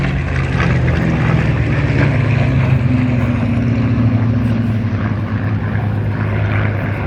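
Focke-Wulf 190 and Mark 5 and Mark 9 Spitfire warplanes roar past at an airshow display, a loud continuous propeller-engine drone with a shifting pitch that stays steady and close throughout.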